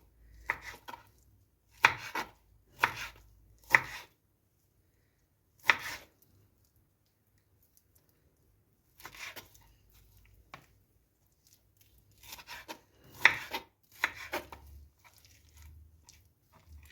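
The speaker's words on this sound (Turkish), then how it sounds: "Bakın şu şekilde doğrayalım tavuk etlerimizi." A knife chops raw chicken on a cutting board in short bursts of sharp, wet strikes, separated by pauses, close and fairly quiet.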